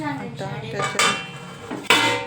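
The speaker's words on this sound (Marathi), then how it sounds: "आता याच्यावर झाकण ठेवून देते" A metal lid set onto a kadhai on a low gas flame, making a few close clattering knocks and a sharp ringing clang near the end.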